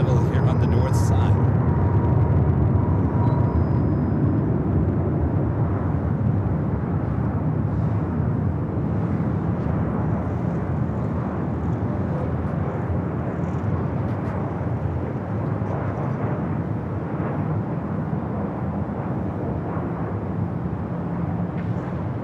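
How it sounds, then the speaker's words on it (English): A Southwest Boeing 737-800 from Austin arrives at LAX on the north side, a steady broadband jet roar filling the whole stretch at constant loudness, with voices talking over it throughout. "another Southwest flight coming from Austin, 737-800, next arrival here on the north side"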